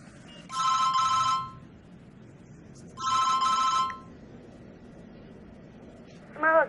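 A telephone rings indoors in a Filipino drama scene: two clear, evenly spaced trilling rings with a quiet pause between them, then the start of a third ring cut short at the end.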